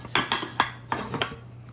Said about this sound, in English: now we just have to take our beautiful tarte aux pommes out of the pan and onto a plate